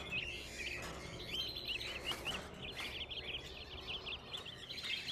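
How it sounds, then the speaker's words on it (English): Pigeons kept indoors in an apartment call with repeated bright chirps and tweets. The calls recur steadily over a constant low room hum, with no voices. "Hope you're not allergic to birds."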